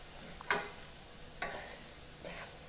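Green bean curry being stirred in oil in a pan, giving three soft scraping stir strokes spaced about a second apart over a faint steady sizzle.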